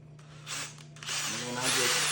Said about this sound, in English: get your big drill bit, and you're simply gonna drill this slow